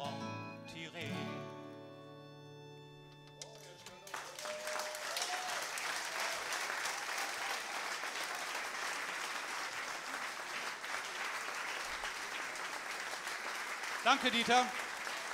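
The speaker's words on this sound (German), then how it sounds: "Und nochmal einen herzlichen Applaus für die Ausrichter des Festivals." An audience at a festival folk concert breaks into loud, sustained applause after a few seconds of music and a brief spoken thanks, the clapping dense and even, with a voice rising over it near the end.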